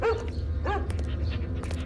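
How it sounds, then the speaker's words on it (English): A dog gives two short, sharp barks close by, about half a second apart, over a low, steady background rumble. "You can stream it while you walk the dog."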